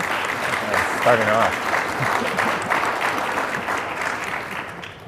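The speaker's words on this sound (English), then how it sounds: "So maybe we'll just give a round of applause for our speakers." A conference audience claps for panel speakers at a carbon management session, even sustained applause with a brief spoken phrase over it near the start.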